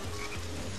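Croaking from a frog in the Sonic Heroes video game, a steady low throaty call repeating through a short burst with no talk over it.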